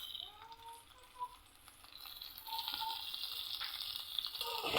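Oil sizzling and crackling in a pan as green chilies, garlic, dried chilies and onion fry for a radish greens dish, starting quiet and growing into a steady louder hiss.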